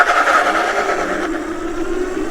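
Ariel Rider D-Class electric scooter at full throttle from a standstill with both motors running, a loud steady motor whine under wind rush, pitch slowly climbing as it speeds up.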